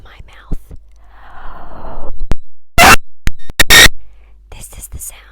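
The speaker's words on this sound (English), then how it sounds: "of the microphone in my mouth." Wet, close-up mouth sounds from a microphone held in a mouth, with soft whispery breaths, crackles and a few sharp pops, bursting louder in the middle before trailing off.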